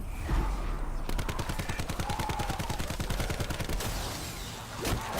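Shots from a pistol in Call of Duty Black Ops 4 Zombies sound in a fast, steady run of sharp reports lasting a few seconds, close and loud over game ambience.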